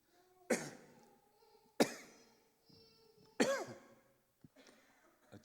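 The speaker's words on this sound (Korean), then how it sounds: "기침들 하셔요." Three separate coughs and throat-clearings from a congregation during a Wednesday church service, quiet and spaced about a second apart, with a faint small noise afterward.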